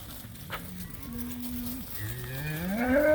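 Cattle in a paddock on a farm give a few drawn-out moos that bend up and down in pitch, close and loud, with the last call rising strongly at the end.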